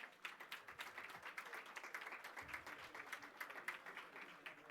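A conference audience applauds the sponsors, a faint, scattered patter of clapping from a modest crowd, heard at a distance and fairly quiet throughout.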